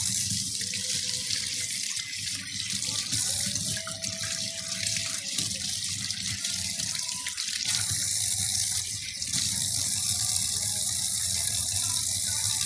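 Tap water pours steadily into a sink while okra is washed, a continuous loud rushing stream with faint clinks and handling noises underneath.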